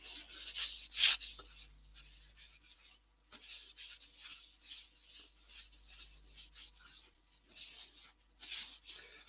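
Abrasive grit rubbing over a yew natural-edge turned piece, a soft hissing rasp in repeated strokes, fairly quiet and close, with a brief louder scrape near the start and pauses between passes.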